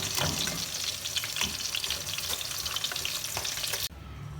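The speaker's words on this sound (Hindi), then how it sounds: "अब इसके अंदर हम ऐड कर देंगे किशमिश और तकरीबन 15-20 सेकंड और इसे फ्राई करके फिर हम निकाल देंगे।" Raisins and almonds crackle in hot oil, a dense, loud, continuous sizzle with scattered pops and the occasional stir. It drops away abruptly near the end.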